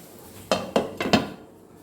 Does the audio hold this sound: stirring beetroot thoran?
yes